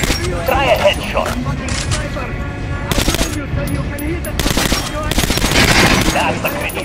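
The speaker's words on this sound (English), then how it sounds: "Now shoot an armored dummy. Notice the difference? It's going to take more bullets than heated armor." Automatic gunfire from the video game Metro Last Light, shooting at an armored training dummy: loud, dense bursts of rapid shots with metallic clatter, sustained throughout with brief lulls between volleys.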